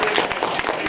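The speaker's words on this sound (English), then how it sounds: "Give everyone a round of applause" Brief, steady burst of audience applause at an improv comedy workshop, dense and fairly loud, with no voices over it.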